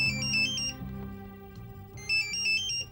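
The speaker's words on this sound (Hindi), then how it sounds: "इतनी रात गए अफजल खां के यहाँ से फोन?" Telephone ringing late at night with an electronic ringtone, two bright warbling bursts separated by a short gap, loud and close over a low musical drone.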